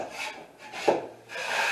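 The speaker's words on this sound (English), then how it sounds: "I come through with a knife and scrape any ridges off that was left behind" A drywall knife scrapes ridges of dried joint compound off a ceiling corner during drywall repair, three short rasping strokes, close and clear with no talking.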